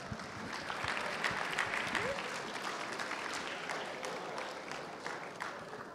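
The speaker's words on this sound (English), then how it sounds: "let's give the kiddos some hand claps as they come" An audience claps steadily for children coming up to the stage at a Christmas Eve gathering, a dense, continuous round of applause from many hands in a room that fades slightly toward the end.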